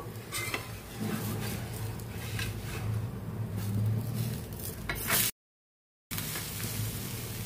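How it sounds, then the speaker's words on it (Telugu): Moong dal dosa (pesarattu) cooking in ghee on a pan gives a steady close sizzle with light scraping and clinks of a utensil, broken by a brief silent gap near the end. "ఈ కలర్ వచ్చే వరకు కూడా వేయించుకోవాలండి."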